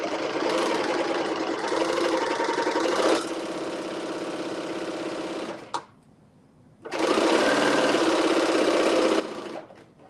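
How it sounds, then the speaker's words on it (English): A serger sewing machine runs at a steady, fast mechanical whir for about five seconds, stops briefly, then starts again and runs loud and close for a few more seconds. There is no speech. "We are serging."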